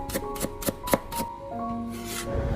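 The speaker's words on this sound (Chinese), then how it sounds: "将生姜切成薄片" A knife slicing fresh ginger into thin slices on a cutting board: about six crisp, evenly spaced chops in quick rhythm, close and clear, then a brief pause.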